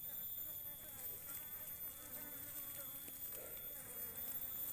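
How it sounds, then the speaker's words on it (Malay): Asian honey bees (Apis cerana) at an exposed nest give off a steady, faint insect buzz. The hum is continuous and fairly distant, with no speech. "cara menjinakkan lebah cerana"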